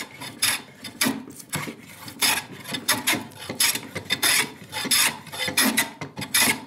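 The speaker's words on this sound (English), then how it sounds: "So this hogs off quite a lot of wood." A scrub plane hogs off wood in quick, rhythmic rasping strokes, close and fairly loud, each pass a short scraping burst with brief pauses between, no talking.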